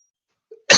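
A single person coughs once, a short sharp burst following a brief throat sound, close and alone in an otherwise silent moment.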